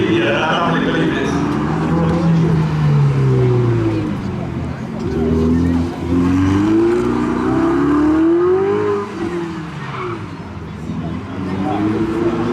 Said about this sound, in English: This one has a V8 engine in the rear